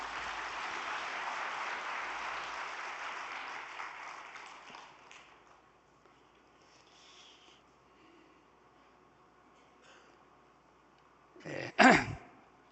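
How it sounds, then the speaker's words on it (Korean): An audience applauds at a vigil prayer gathering, steady clapping for about four seconds that fades away into near quiet, followed by a sharp loud throat clearing close by. "다시 한번 박수 부탁드리겠습니다"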